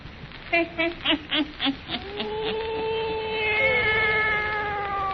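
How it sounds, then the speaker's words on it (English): A black cat meows in an old 1934 radio drama, beginning with a quick series of short pulsing cries and then drawing out into long, wavering, gliding yowls that carry on to the end. "And now for our visit to old Nancy and her wise black cat."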